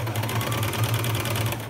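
A sewing machine stitches a patiala pant at a fast, even rhythm, its motor hum and rapid needle clatter running continuously, close and loud, with no talking.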